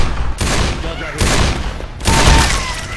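Sniper rifle fire in the video game Left 4 Dead 2: three loud, booming shots about a second apart, each with a sharp crack and a long rumbling tail.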